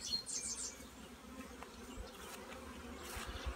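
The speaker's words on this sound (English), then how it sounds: "Quite a pile of bees right there because of that." A dense, steady buzz of many bees hums close by without pause, with a faint bird chirp near the start.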